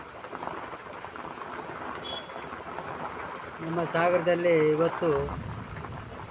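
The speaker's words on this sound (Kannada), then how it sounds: "ಭಾರಿ ಗುಡುಗು ಮಿಂಚು ಮಳೆ" Heavy rain pours down steadily in Sagar during a storm, a constant close hiss of falling water, with someone speaking over it for a couple of seconds midway.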